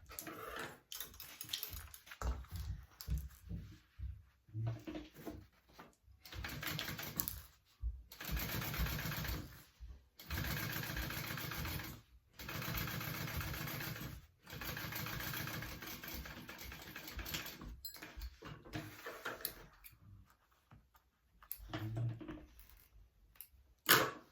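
Domestic sewing machine topstitching through a crossbody bag flap and its seam allowance, running in several sustained bursts of steady mechanical whirring with short pauses between, close and clear with no talking.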